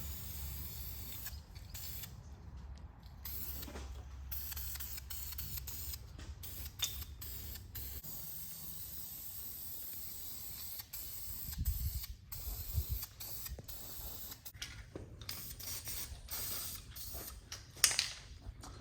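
Spray paint applied in bursts as a coat goes onto the shaved engine bay of a Mk4 Jetta GLI, outdoors at dusk, with soft hissing bursts over a low steady rumble and a few sharper clicks near the end.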